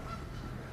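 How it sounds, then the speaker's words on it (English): Waterfowl honk and call near a trumpeter swan exhibit at a zoo in the early morning, a steady, fairly loud goose-like honking with no talk. "and you hear the birds calling,"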